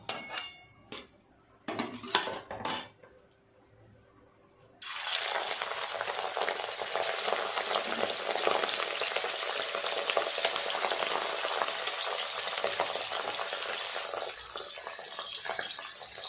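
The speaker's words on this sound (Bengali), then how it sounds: "মাছগুলো আস্তে আস্তে ভাজা করি" A few sharp clinks of utensils, then catla fish pieces slide into hot oil and fry with a loud, sustained, even sizzle that continues to the end.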